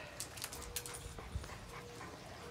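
Soft, high whimpers and small yips from poodles come in short bursts over a quiet background, close by but fairly faint.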